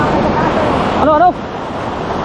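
Big rushing water or waves roar loudly and continuously, with a brief voice in the middle and a sudden drop in level afterward.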